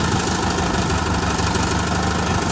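A Hustler 980 gas engine idles steadily up close, a loud, even rumble with a slight knocking vibration throughout.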